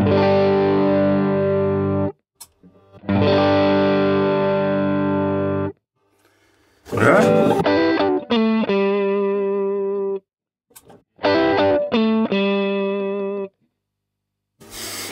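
Electric guitar through a Tube Screamer overdrive pedal set to the TS9 diode, alternating sustained distorted chords with short single-note phrases, separated by brief silences, loud and alone.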